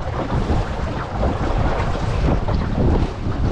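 A Drascombe Lugger sailboat under way on a lake in the wind, with loud steady wind buffeting and a rushing wash of water along the hull, no talking.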